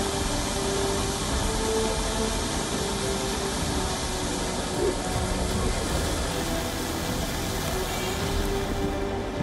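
Intense rain pours down over a city in a steady, dense broadband hiss that never lets up, loud and close with no voices and no distinct drops standing out.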